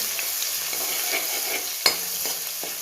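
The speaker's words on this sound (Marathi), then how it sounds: "मोहरी जिरं तळतळले की त्यात घालू" Mustard and cumin seeds crackle in hot oil, a continuous hissing sizzle with small scattered pops and one sharper crackle, close by and without talk.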